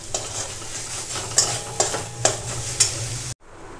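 Chopped taro leaves are stirred and dry-sautéed in a pan, a close sizzle punctuated by four evenly spaced spatula scrapes before the sound cuts off.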